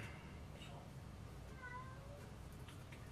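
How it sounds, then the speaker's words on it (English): A domestic cat meows to be let in, a few plaintive drawn-out calls heard at moderate distance over a low background hum. "We've got a cat that's asking to get in"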